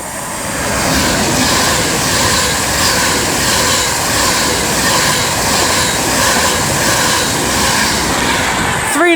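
Train running past at Marston Green on the West Coast Main Line, a loud sustained rumble and roar that holds steady for several seconds with no talk.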